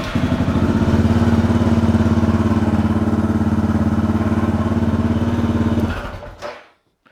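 A motorcycle engine idles loud and close with a steady, throbbing rumble, then shuts off abruptly near the end, leaving silence.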